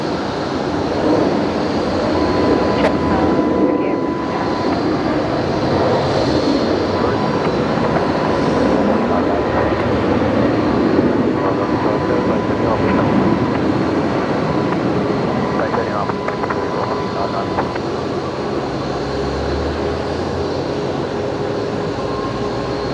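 A plane touching down on runway 19 at Brisbane Airport, a loud sustained roar of engines and rushing noise that stays steady throughout, heard from the spotting position with a voice talking faintly underneath.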